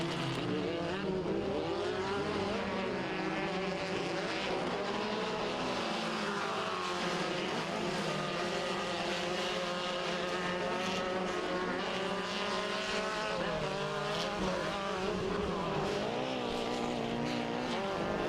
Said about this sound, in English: we got side-by-side racing to the split lane